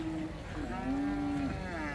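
A Sahiwal cow moos once, a long drawn-out low call at close range, amid the crowd noise of a village livestock market in Dinajpur.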